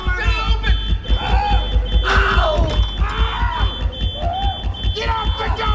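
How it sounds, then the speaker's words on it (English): A fire alarm in a prison drama beeps in rapid, regular high-pitched pulses that continue throughout under tense music, crashes and overlapping voices. "When the fire alarm signal went off, the employee called out to maintenance."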